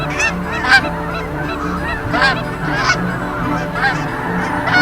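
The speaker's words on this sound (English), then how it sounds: "the cries of thousands of migrating waterfowl fill the chill autumn sky" Vast migrating autumn flocks of Canada geese, snow geese, pintails and mallards fill the sky with constant overlapping honking, many geese calling at once in a dense, loud chorus without pause.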